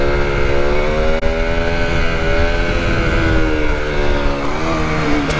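A 125cc motorcycle engine revs hard and close as it accelerates up into a wheelie, its loud harmonic drone rising steadily in pitch and holding strong throughout.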